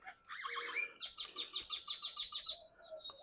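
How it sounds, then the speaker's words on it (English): A bird calls outdoors in a quick run of repeated chirping notes, a laughing chatter of about a dozen bright, pulsing syllables, fairly near and clear over a quiet background. "I hear a bird laughing at me somewhere."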